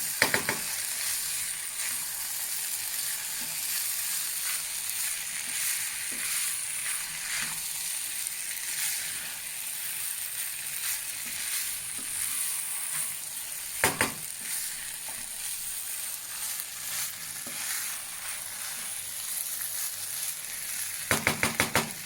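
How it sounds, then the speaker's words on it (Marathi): Mumbai-style tawa pulao rice with masala sizzles steadily on a hot griddle, a constant close frying hiss with a few sharp spatula scrapes at the start, middle and end. "छान मिक्स करून घेऊया"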